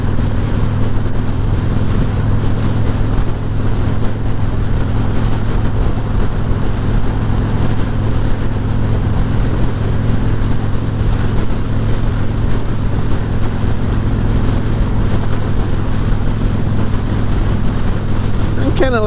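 A 2021 Harley-Davidson Freewheeler trike cruising in fifth gear, its engine drone and wind rumble steady and loud throughout, with no pauses.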